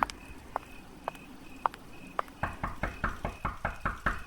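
Someone knocks on a flat's door, first with single sparse raps and then a faster, louder run of about ten knocks at a steady rhythm, close by, with no talking.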